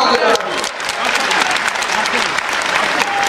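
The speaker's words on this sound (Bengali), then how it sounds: "প্রত্যেককে একবার জোরে হাততালি দিয়ে স্বাগত জানাই" A political rally crowd claps loudly to welcome party leaders on stage, a dense, continuous wash of applause with some crowd noise and voices mixed in.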